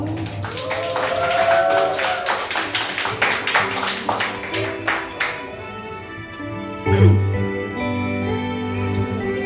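An audience claps steadily in time at a live acoustic guitar performance of a song, bright rhythmic claps over sustained strummed chords, the clapping fading after several seconds as the guitar rings on.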